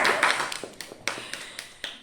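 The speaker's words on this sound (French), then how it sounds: "je vous applaudis" Several people clap by hand in a French-speaking youth faith class, giving a close cluster of sharp claps that thins out into scattered single claps.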